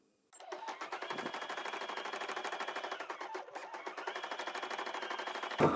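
A POOLIN EOC05 embroidery machine stitches out a design with a rapid, even mechanical chatter of needle strokes. It starts after a brief silence, dips for a moment midway, then resumes, loud and close, with no talking.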